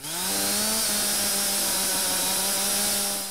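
A chainsaw runs steadily at high revs, cutting down a large tree in the east of the Democratic Republic of Congo's rainforest, loud and close with a continuous droning whine.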